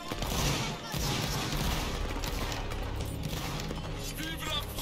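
A musket line formation fires in the Roblox Waterloo game, with dense overlapping gunfire and crackling reports in a loud continuous din lasting several seconds, and voices mixed in.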